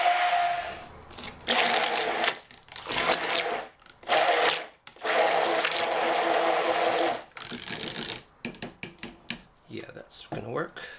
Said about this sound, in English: I think a work with the blender will soften it up